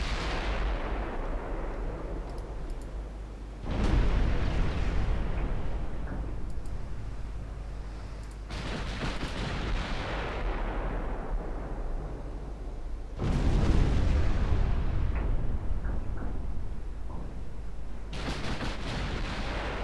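Heavy war video game fire in a 1956 Norwegian campaign booms again and again as deep, rumbling blasts, each one swelling loud and then fading into a long roar. No voices are heard.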